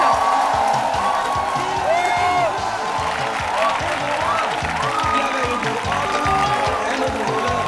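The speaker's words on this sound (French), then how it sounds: "on va décerner des applaudissements bien fournis pour Ingues Bonsens." A studio audience at a French-language midday television show claps steadily and loudly, with scattered cheers and whoops woven through the dense applause, which holds level for several seconds.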